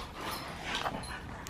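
Puppies playing together indoors give quick faint yips and whimpers over a noisy, rustling background, brief and close.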